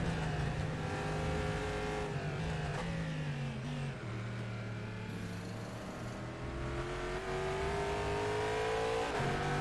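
Race car on a fast lap heard from onboard, engine droning loud and close with rising and falling revs through gear changes, no talk.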